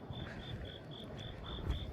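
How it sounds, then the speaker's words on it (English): Insects chirp outdoors in a fast, regular series of short high pulses, about seven evenly spaced chirps over a low background hum, with no talking. "Is that a frog? No, it's one of those crickety guys."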